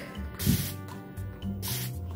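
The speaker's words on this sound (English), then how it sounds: "comes in a mist and a continuous spray" A spray bottle hisses in short bursts, two or three quick sprays separated by brief pauses, close and fairly loud.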